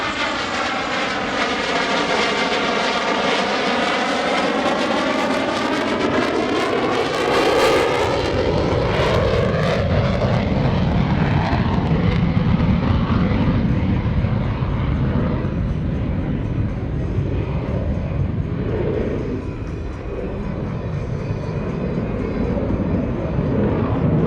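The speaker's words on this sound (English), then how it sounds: "there's the carrier configuration pass" An F/A-18C Hornet jet makes a carrier configuration pass at a naval air station airshow, its loud roaring engine noise swelling and sweeping as it flies by, then a broad sustained rumble trailing off into the distance.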